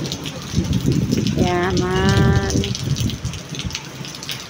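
A rain and wind storm pours down as a steady, loud, dense rush of rain and gusting air, with a brief voice heard partway through.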